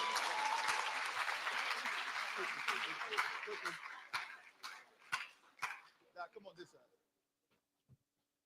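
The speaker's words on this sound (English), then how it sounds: "Let's give our scholarship recipients another round of applause." An audience at a youth leadership conference in Nassau, Bahamas applauds scholarship recipients: full, dense clapping for about four seconds, then it breaks into scattered individual claps and dies away to near silence.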